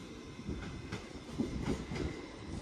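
A passenger train pulls out of Crewe station bound for Liverpool Lime Street, its carriages rumbling past with rhythmic wheel clatter over rail joints, moderately close and with no talk over it.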